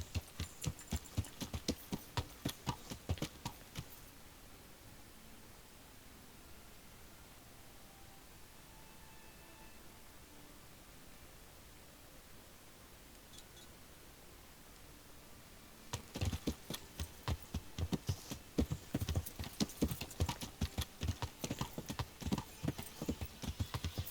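Horse hooves in a medieval Kingdom Come Deliverance game pound in a steady, rapid gallop for several seconds, fall away to a quiet hiss of ambience, then return even louder and denser for the final stretch.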